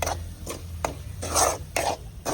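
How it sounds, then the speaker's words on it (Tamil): Tuna pieces being stirred into a frying onion and chili masala, heard as repeated close rasping spatula strokes over a faint background sizzle. "அடுத்ததாக நம்ம மீன் தான் எடுத்து போடணும்"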